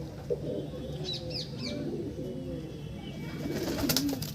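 Young pigeons in a loft give soft cooing calls through the middle of the clip, with faint chirps and a low rumble of background noise. A brief louder call comes near the end.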